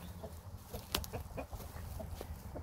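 Faint, scattered clucks from chickens nearby over a low background hum, a few short calls spread across a couple of seconds.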